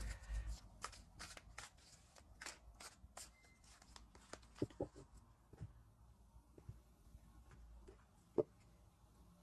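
A deck of tarot cards is shuffled by hand in a quiet room, giving a rapid series of crisp riffling snaps and soft slides, close and fairly faint, with brief pauses between bursts.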